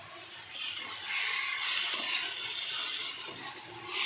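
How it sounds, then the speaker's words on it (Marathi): Fenugreek leaves (methi bhaji) fry in a pan with a steady close sizzle and soft stirring scrapes, one brief clink near the middle. "तर ती भाजी आता आपण फ्राय करून घेऊया।"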